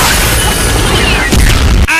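A loud, heavy explosive boom of an RPG rocket blast, dense and close, with crackling debris and rumbling noise filling the whole short burst.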